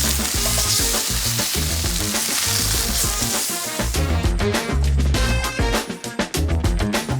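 Salmon sears hard in a very hot pan, giving a loud, steady sizzle and spatter that turns crackly and uneven toward the end, with no voices.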